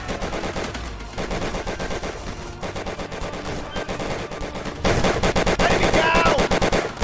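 Rapid, continuous World War 2 gunfire in the Easy Red 2 video game, dense bursts of machine-gun and rifle shots that grow louder toward the end, with some voice chatter mixed in.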